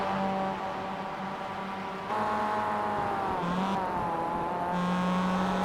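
Kia race cars accelerate in iRacing at the Nürburgring Nordschleife, a steady engine drone with rising and shifting tones as several cars pass, no voices.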